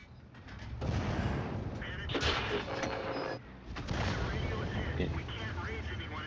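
Artillery fire in a tank video game, heavy booming blasts over a constant rumbling engine and battle din, with someone briefly speaking.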